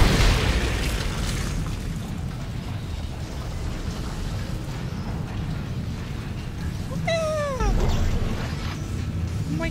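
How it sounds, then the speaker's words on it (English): A pet cat gives a single drawn-out meow near the end, close and clear, over a steady bed of noisy Dead Space 2 gameplay sound with rumbling blasts. "My cat wants attention."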